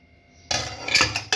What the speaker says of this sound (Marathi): आता हे कुकर आपण लावून एक